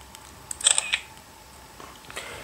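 A Samsung Galaxy Camera fires its shutter while taking a picture in expert mode, a quiet mechanical click pair near one second followed by a faint second click, close and alone with no talk.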